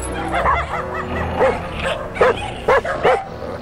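Dogs in a stage play yip, bark and whimper in short bursts, several sharp barks near the end standing out over a murmuring stage background.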